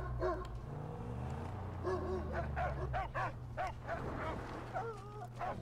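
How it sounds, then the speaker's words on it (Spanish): A dog in the video game Mad Max barks in a short run of yelps and woofs over a low engine drone, moderately close. "Este perro yo creo que me odia."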